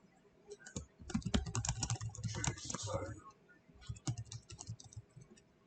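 A computer keyboard is typed on in quick, uneven bursts of clicky keystrokes. The typing pauses briefly and then resumes, quiet and close by.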